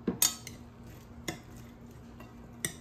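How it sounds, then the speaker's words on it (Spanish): A utensil stirs pasta salad in a bowl, giving a few sharp clinks and scrapes against the bowl spaced out over a quiet background, close and fairly soft. "Revolvemos."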